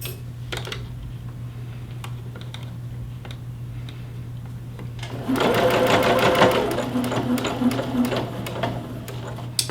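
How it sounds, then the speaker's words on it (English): Home sewing machine stitching fabric up to the tip of a seam on a Butterick B5538 garment, running in a steady rapid whir for several seconds after quieter handling sounds, with someone talking softly. "And then we're going to sew until you get to the tip"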